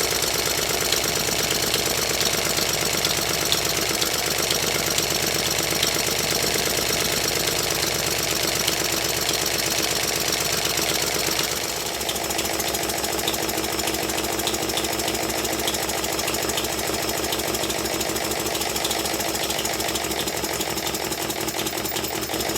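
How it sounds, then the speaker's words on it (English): A model triple expansion steam engine runs steadily for a long stretch, giving a continuous mechanical chuffing and rapid rhythmic ticking at close range with a slight change in tone midway, no talking. "I will run my triple expansion engine until the end of the video."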